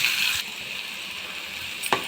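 Onions and curry leaves sautéing in a pan for home-style South Indian dal tadka: a steady, close, bright sizzle that eases slightly, then a short clatter near the end.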